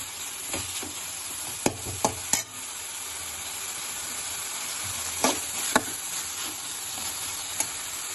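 Vegetables with tomato and capsicum sizzle steadily in a frying pan, with several sharp scraping and clattering spoon strokes as they are stirred, close and continuous with no talk.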